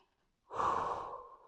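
One slow, deep breath drawn during a guided meditation, a soft airy rush that swells in and then fades out gently, heard alone and close.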